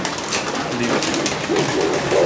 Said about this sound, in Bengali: এগুলি কিন্তু সব দেশি কবুতর